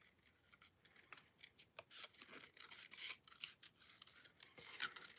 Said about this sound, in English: I'm just going to fussy cut this out.